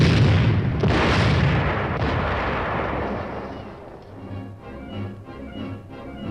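A Cold War tank's high-velocity 90mm gun fires, a heavy booming blast opening the clip and then rolling into a long, fading rumble with more distant reports further off.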